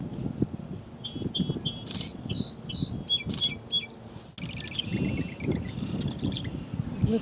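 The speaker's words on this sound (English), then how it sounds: "And what is it? Song sparrow." A song sparrow in a spring meadow and marsh sings repeated bright, trilling phrases in two bursts, clear and fairly close over a low rumble of background noise.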